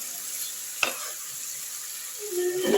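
Potato and okra cooking in a pan with spices and only a little water as it dries out, giving a soft, steady frying hiss with a sharp click near the start and a louder swell at the end.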